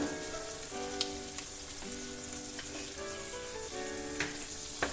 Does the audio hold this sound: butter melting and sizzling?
yes